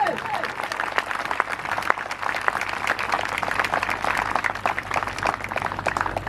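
A church congregation at a sermon applauding, with steady, dense clapping from many hands sustained throughout, fairly close and even in loudness.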